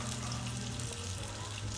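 Vegetable lumpia fry in hot oil with a dense, steady sizzle and crackle close by, unbroken for the whole two seconds.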